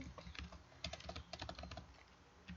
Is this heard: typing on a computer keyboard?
yes